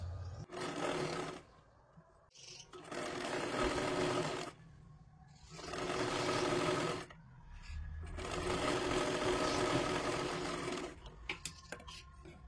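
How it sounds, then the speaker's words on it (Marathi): A sewing machine stitches the lower edge of a katori blouse in three close, loud, steady runs separated by short silences, with a few small clicks at the end. "खालच्या बाजूला हे पहा पूर्ण एक शिलाई मारून घ्यायची आहे"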